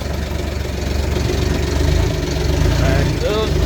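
Kawasaki Mule Pro DXT utility vehicle shifted into reverse, its engine running at a steady close idle-like rumble with a brief whine near the end, continuous throughout.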